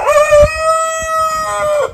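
A chicken in a backyard flock gives a loud, drawn-out call that holds a steady pitch for nearly two seconds, close by, with faint scuffling underneath.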